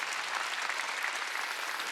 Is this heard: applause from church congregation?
yes